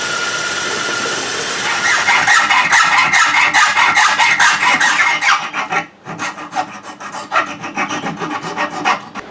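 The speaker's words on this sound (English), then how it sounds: "that's just a lot of drilling and hacksawing and bending and what have you." Aluminium brackets are hacksawed by hand, a rapid rhythmic rasp of back-and-forth strokes close up, brightening after a couple of seconds, pausing briefly, then resuming in slightly slower, choppier strokes.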